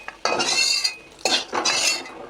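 A wide metal spatula scrapes and clinks against a pan while lifting out fried bitter gourd, in two close, distinct bursts of scraping with a short pause between.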